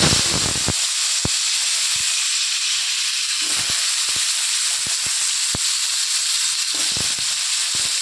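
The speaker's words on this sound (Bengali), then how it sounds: "এবার কড়ার মধ্যে একটু শুকনো লঙ্কা, পাঁচফোড়ন দিয়ে এবার আলুগুলোকে দিয়ে ভাজা" Potatoes frying with dried chili and panch phoron in a wok, with a loud steady hiss and sizzle throughout, broken by sharp pops and spatters, heard up close without speech.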